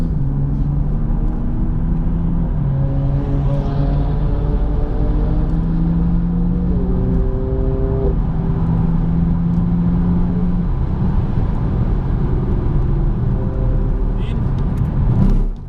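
BMW 235i lapping the Spa circuit, a loud steady engine drone with rising and falling harmonics as it accelerates and shifts, heard from inside the car with road rumble throughout.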